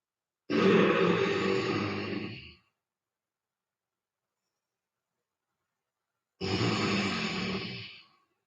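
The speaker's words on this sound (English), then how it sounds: "Our fire's breath, or our Darth Vader breath, breathing in through your nose." Two long forceful breaths pushed out through the nose in breath-of-fire yoga breathing, each a loud rasping rush of air lasting about two seconds, separated by a long silence.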